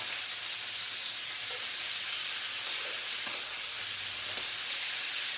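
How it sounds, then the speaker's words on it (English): Chicken thighs, flipped to show browned crispy skin, sizzle in a pan as a steady, soft hiss with a few faint clicks and no voices. "I'm going to take my tongs and flip these babies over."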